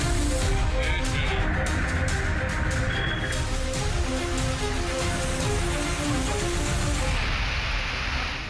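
Heavy rain pours steadily in a constant dense hiss, with croaking frogs and scattered drips layered beneath it throughout.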